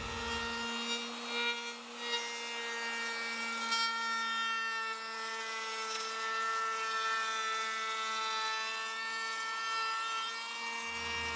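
A woodworking router cuts along a plywood shelf edge in shallow passes, a steady high-pitched whine with strong tonal harmonics that holds near and loud for about ten seconds before spinning down.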